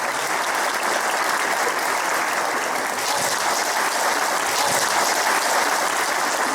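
Steady, full applause from a graduation ceremony crowd rolls on for several seconds at an even level, many hands clapping together without a break.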